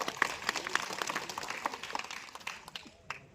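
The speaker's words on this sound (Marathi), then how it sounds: "त्यांना एकदा टाळ्या आपल्या कॉम्रेड साठी वाजवल्या पाहिजे" A rally crowd claps for comrade leaders at a long march camp, a dense burst of many hands that stays loud at first and then thins and fades toward the end.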